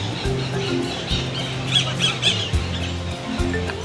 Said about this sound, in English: A group of noisy green fellas has a traditional meeting point in these trees, Pacific parakeets.